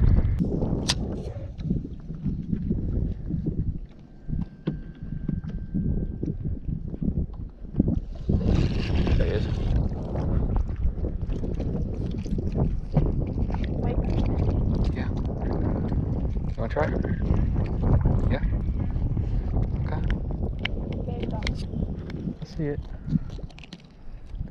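Wind buffets the microphone on a fishing boat on Lake of the Ozarks during prespawn crappie fishing, a steady rough rumble running throughout, with people talking over it.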